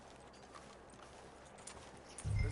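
Horse hooves walking in the video game Red Dead Redemption 2, soft steady clip-clop steps under a faint ambient bed, ending in a sudden louder low thump.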